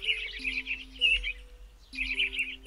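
Cartoon birds chirp on the musical bird tree in the Sago Mini Forest Flyer app: bright, quick tweets come in two bursts over soft, sustained musical tones, clear and fairly quiet.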